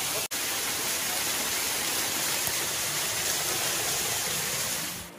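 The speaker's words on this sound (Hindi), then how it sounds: "यहाँ पे देखिए वाटरफॉल बहुत ही शानदार है।" A waterfall after the rainy season pours water downward in a continuous, dense rushing roar, steady and fairly loud throughout, with one tiny break near the start.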